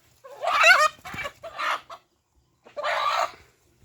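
A rooster for sale gives loud, close clucks and calls in three quick bursts, then a pause and one more longer call.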